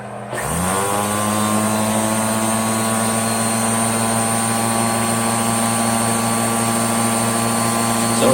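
A Rainbow D3C vacuum running with a power nozzle attached spins its brush roll up after a brief start, then holds a loud, steady whine and hum without a break.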